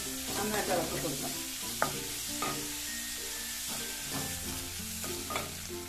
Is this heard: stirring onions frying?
yes